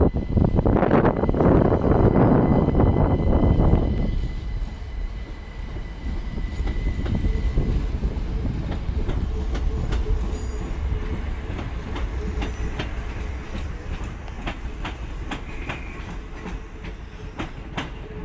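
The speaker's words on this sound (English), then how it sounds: "Southern Railway is now on its departure from Redhill." A Southern Railway class 377 unit, 377149, pulls out of Redhill station, a loud rushing roll that fades into steady wheel rumble and clickety-clack, with brief faint squeals and wind noise on the microphone.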